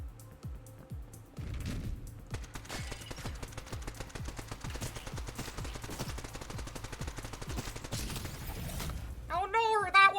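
Rapid gunfire-like bursts and explosions from an alien baby enemy firing heat-seeking missiles in the video game Neon Abyss, a dense rattling barrage ending in a burst of chirpy electronic effects.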